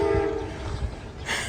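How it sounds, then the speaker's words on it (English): A train passes through Harpers Ferry, a rumbling rail sound with a sustained horn tone at first, steady and fairly close, with a brighter hiss near the end. "And here comes a train."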